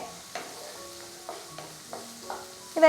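Okra sautéing in a pan for Chettinad vendakka mandi, a quiet sizzle punctuated by several light, evenly spaced spatula scrapes and clinks against the pan, close by, without speech.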